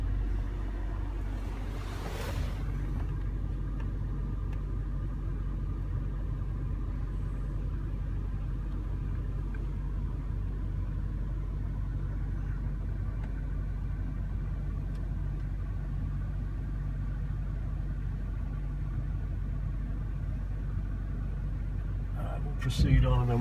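A Range Rover crawls through an off-road course, its engine a low steady rumble throughout with indistinct voices nearby and a brief louder burst near the end.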